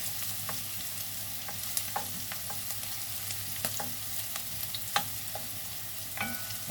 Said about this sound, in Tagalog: Antayin ko na mag golden brown yung bawang.